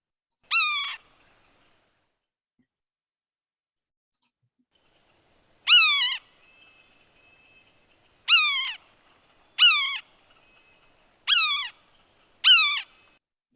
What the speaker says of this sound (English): this particular one is indeed our red-naped sapsucker